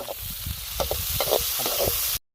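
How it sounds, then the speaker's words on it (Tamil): Onions sautéing in a pan until golden, a constant close sizzle broken by irregular stirring scrapes and clatters, ending abruptly in silence. "வெங்காயம் வந்து நல்லா பொன்னிறம் வர வர நல்லா வதக்கணும்"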